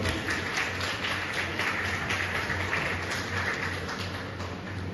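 An audience at a Lions Club Kargil Vijay Diwas program held at a school claps steadily, a continuous wash of applause heard from a distance and fairly soft, with no clear talking over it.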